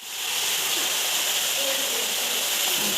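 Meat sizzling in a hot pan in a home kitchen, with potatoes cooking alongside, gives a steady, close, loud hiss that runs unbroken for the whole stretch.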